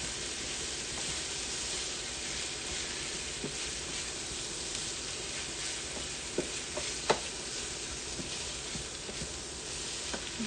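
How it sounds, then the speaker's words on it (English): Diced potatoes sautéing in a pot for a Montana breakfast chowder, a steady close sizzle and hiss with occasional soft knocks and scrapes of stirring, no voices. "now we're going to add our diced potatoes. And saute that into your mix."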